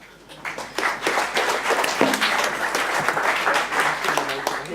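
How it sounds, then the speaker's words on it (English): A conference audience applauds a speaker after a DevOps talk, dense clapping sustained at a steady level throughout, close and full, with faint voices underneath. "Round of applause for Michael."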